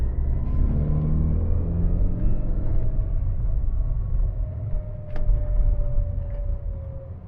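Great Wall Wingle campervan pulling uphill in low first gear, a steady low engine drone with a faint rising whine, heard from inside the cab.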